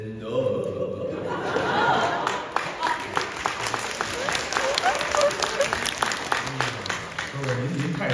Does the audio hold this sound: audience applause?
yes